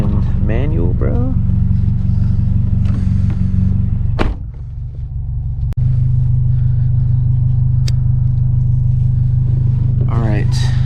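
A manual Mazdaspeed 3 engine rumbles steadily as the car drives on a wet backroad, a loud continuous drone with a brief dip and thump midway, while people talk over it.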